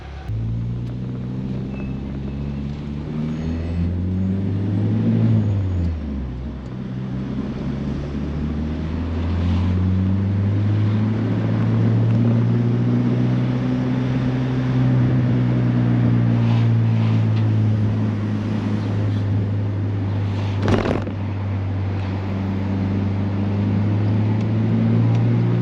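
A 1994 Nissan Sentra B13 with a turbocharged 1.6 engine and an open exhaust cutout drones steadily from inside the car while driving, its low exhaust note rising and falling through the gears under light wind noise.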